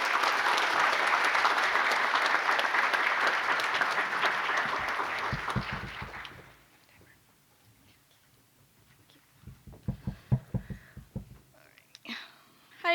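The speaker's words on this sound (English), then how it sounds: "let's welcome them with a round of applause" An audience claps in a sustained round of applause at a university research talk session, dense and steady for about six seconds before fading out. A few scattered sounds and knocks follow in the quiet.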